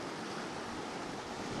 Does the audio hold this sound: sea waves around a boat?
yes